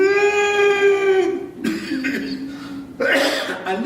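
A long sustained vocal tone during pranayama breathing breaks into a couple of forceful, raspy coughs, close and loud.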